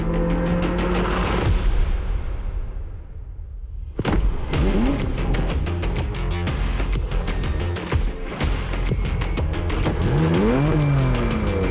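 Engine roar of a BMW M4 Competition in the racing video game The Crew Motorfest, with rising revs, gear shifts and a brief drop to near silence before the engine surges again, loud and continuous.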